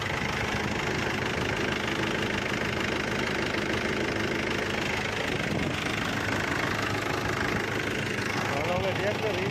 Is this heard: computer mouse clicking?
no